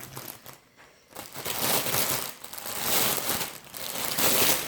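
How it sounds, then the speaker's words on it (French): Paper crinkles and rustles close up, in repeated bursts of handling with short pauses between them. "Désolée pour le bruit de papier."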